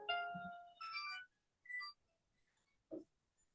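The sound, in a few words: mobile phone ringtone ringing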